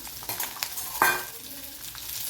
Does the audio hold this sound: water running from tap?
no